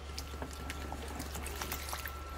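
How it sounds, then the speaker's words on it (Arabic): Water trickles little by little into an Egyptian salad dressing made with vinegar, to be whisked in. A faint, steady pour runs throughout, with light scattered clicks and a low background hum. "نحط الماء شويه بشويه ونضرب بالمضرب ان شاء الله"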